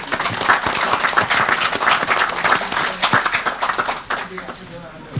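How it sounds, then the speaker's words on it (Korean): Applause and clapping from people gathered at the launch press conference of a 2012 general-election voters' network, a brief close burst that tapers off near the end. "큰 박수로 시작을 알려주시기 바랍니다"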